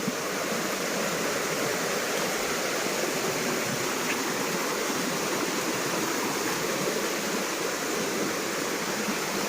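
A full stream or small river rushes steadily and loudly near a farm field, a dense continuous wash of flowing water with no break.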